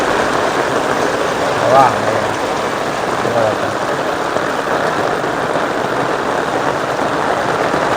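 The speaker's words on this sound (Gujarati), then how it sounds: "સરસ મજાનો વરસાદ ને ભાઈ આવી ગયો છે" Monsoon rain falls over waterlogged ground in Gujarat, a steady, fairly loud wash of noise, while a voice briefly exclaims over it.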